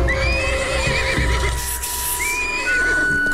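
A small horse whinnies loudly nearby, with a shrill, wavering neigh over a busy background, followed by a second high call near the end.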